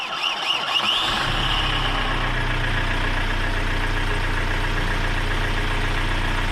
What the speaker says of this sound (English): Just about to start the engine.